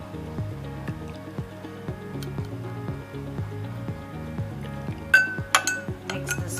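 A spoon clinks and taps in a glass while stirring a drink of lemon juice, making a fast regular series of close knocks that turn into brighter, louder rings near the end.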